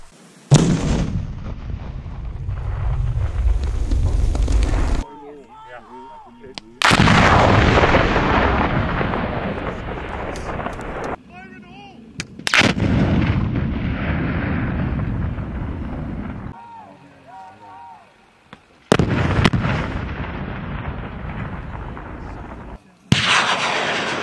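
Explosive charges detonating during the 39th BEB's Bull Fury 2023 military engineer exercise: several loud, close blasts, each a sharp crack followed by a long rolling rumble, with people speaking in the quieter gaps.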